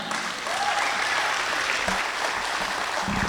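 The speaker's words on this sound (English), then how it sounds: "I would like all of you to give a very big round of applause for our inspection department" Audience applause at a company annual meet and awards night, a dense continuous wash of many hands clapping in a hall, steady and moderately loud throughout.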